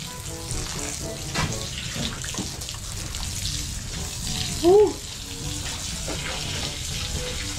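Water runs steadily from a tap in a constant splashing hiss, with a brief louder squeak or clatter midway and no clear speech.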